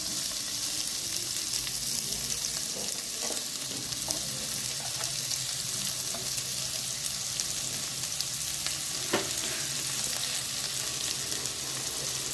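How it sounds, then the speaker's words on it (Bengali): Onion and garlic fry in a pan for palak paneer, giving a loud, even, continuous sizzle with faint stirring clicks and no voices. "এই পাশে পেঁয়াজটা দিয়ে দিচ্ছি। পেঁয়াজগুলো আগে থেকে ভাজা হতে থাক"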